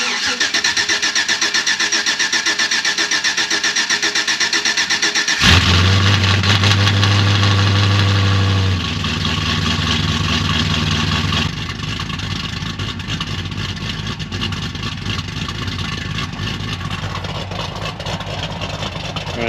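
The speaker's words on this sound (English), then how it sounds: "I'll let you hear how it sounds with the mufflers on, and it's kind of a cold start for you." A car engine cranks and catches, revving loudly on a cold start before settling into a steady, muffled idle.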